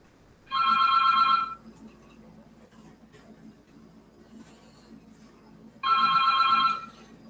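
A telephone rings in two loud electronic bursts about five seconds apart, each a steady trilling tone lasting roughly a second, with near-silence in between.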